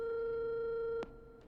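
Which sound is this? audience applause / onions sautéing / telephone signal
telephone signal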